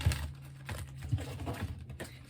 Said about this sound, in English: One more shuffle this way.